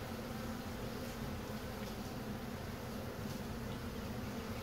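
Honey bees swarm and buzz around a honey-loaded hive being cut out from inside a house, giving a dense, steady, close drone that continues unbroken without talk.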